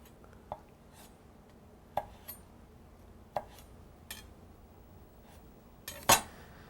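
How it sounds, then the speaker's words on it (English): A knife cuts rolled greens into a very fine chiffonade on a board, giving a handful of sharp, separate taps spread out with pauses between them, up close and fairly quiet against a low background hum. "And I'm going to chop these into a chiffonade."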